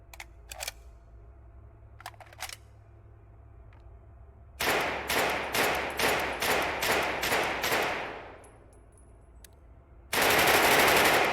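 Rapid bursts of EBR rifle fire in the video game Dead Matter, with a few single shots first, then a fast run of about ten loud evenly spaced shots and a final dense burst.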